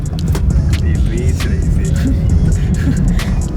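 A Tata Nexon EV Dark Edition drives along a road, a constant loud low rumble of tyres and wind inside the car with faint scattered clicks and tones.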